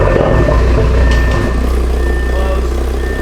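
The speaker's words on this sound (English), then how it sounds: "throw in the new exhaust" An Audi RS3 8V.5 with an iE valved catback exhaust idles loudly with a deep, rumbling exhaust drone, steady throughout, close by, with some faint voices in the background.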